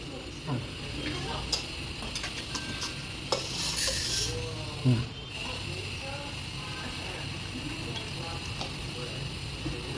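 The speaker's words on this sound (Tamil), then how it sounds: "இப்போ இதை நல்லா இப்போ மிக்ஸ் பண்ணுறேன்" Avakkai mango pickle being mixed by hand or spoon with gingelly oil and salt: soft wet squelching and scraping with scattered light clicks against the vessel, close and fairly quiet, with faint background talk.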